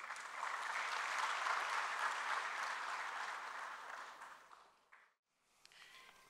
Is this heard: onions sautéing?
no